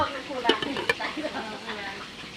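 A tamarind, chili and garlic sauce being fried in a pan, with a moderate bubbling sizzle and a few scraping stirs and light clinks over a couple of seconds.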